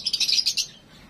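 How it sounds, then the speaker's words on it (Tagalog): A bird near a forest gives a quick run of high, bright chirps in rapid succession, fairly close and clear, then falls quiet. "meron din dito mga ibon"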